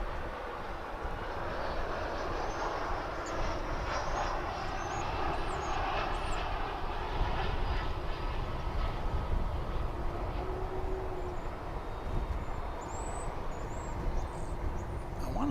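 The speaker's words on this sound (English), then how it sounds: "We shift our focus over here to a Delta flight taking off." A Delta airliner takes off at DFW Airport, its jet engines a steady, distant broadband roar that holds evenly throughout with no talk over it.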